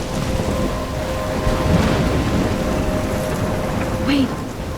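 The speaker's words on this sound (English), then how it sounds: "I'm trapped in a storm?" Thunderstorm with heavy rain in the video game Life Is Strange, a dense steady roar of rainfall with low rumbling thunder underneath, loud and continuous, with a faint tonal hum running through it.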